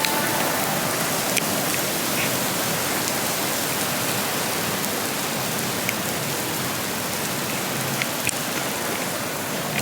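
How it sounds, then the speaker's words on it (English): Heavy rain pours down on a patio outside a small wine bar, a dense, steady hiss of falling water and splashing drops that holds at an even loudness throughout, with no voices. "it's fucking pouring down"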